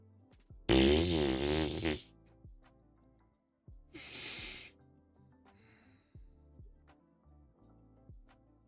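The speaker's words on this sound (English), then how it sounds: "Why is my phone farting?" A smartphone plays a fart sound effect: one long, loud, buzzy blast, then a shorter, breathier one after a pause, with faint clicks in between.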